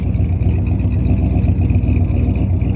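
A 1973 Ford F250 highboy truck idles steadily with a deep, loud, continuous engine rumble throughout, no voices over it.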